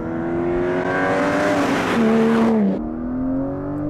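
An Aston Martin Vanquish engine revs loudly up through the gears, pitch climbing then dropping sharply at each paddle shift, heard close from inside the car.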